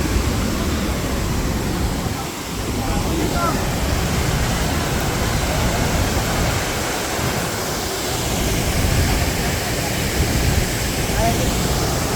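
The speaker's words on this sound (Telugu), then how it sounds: "అత్రేపల్లి water falls X Baahubali water falls" A loud, steady roar of Athirappilly Waterfalls in Kerala, a dense unbroken rush of falling water that fills the whole clip without pause.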